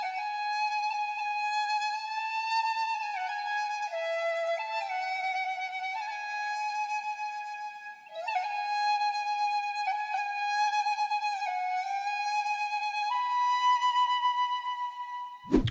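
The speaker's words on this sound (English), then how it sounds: "The last thing I did with the flute was I recorded it out and I just pitched it up 1200 cents." A recorded flute sample pitched up a full octave plays a sustained, bright melodic line of held and shifting notes for about fifteen seconds, steady and fairly loud with no voices, cut off by a brief click at the end.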